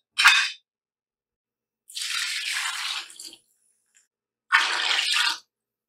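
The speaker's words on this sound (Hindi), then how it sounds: "और अब मैं इसके अंदर डाल दूंगी 5 गिलास के करीब पानी।" Water poured in three separate splashing bursts into a pressure cooker holding meat, bones and lentils, about five glasses in all, close and clear with silence between pours.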